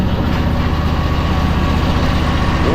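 A worn articulating loader's engine runs at a steady idle, a loud, close, constant low rumble with an even throb and no voices over it.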